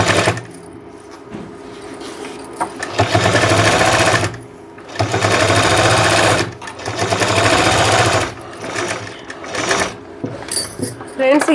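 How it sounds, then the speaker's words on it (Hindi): A sewing machine stitching a fabric seam on a sleeve: loud steady mechanical whirring in several runs of about two seconds each, separated by brief pauses, close to the listener. "कपड़े के मार्जिन को आपको बाहर की तरफ रखना है और इस पर एक सिलाई लगानी है।"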